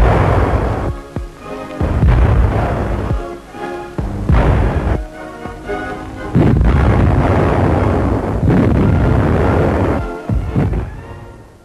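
A series of loud, heavy cannon salute shots in Vyborg fired one after another at steady intervals, each with a rumbling tail, ringing out outdoors.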